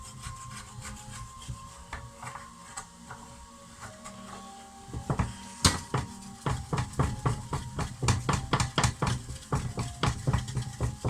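Pan of tagliatelle bolognese shaken in a home kitchen, giving a rhythmic series of scraping, rattling strokes that start sparse and quiet, then become faster and louder, repeating steadily near the microphone.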